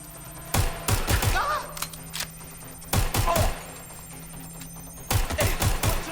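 Gunfire from Watch Dogs: Legion in a fallen London comes in three short clusters of rapid, punchy shots a couple of seconds apart, each volley loud and close against a low, steady background hum.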